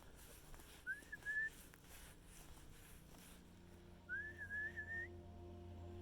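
A person whistles with the mouth outdoors on a golf course, two short rising warbled notes a few seconds apart, faint and thin over quiet background.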